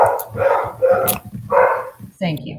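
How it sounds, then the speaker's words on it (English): A pet dog named Pico barks repeatedly in the background of a home tabletop role-playing session, sharp close barks coming in quick bursts mixed with a brief whimper while a person speaks over them. "Oh, sorry, that's my dog."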